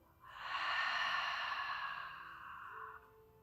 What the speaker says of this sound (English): Take a deep breath in, opening the mouth on the exhale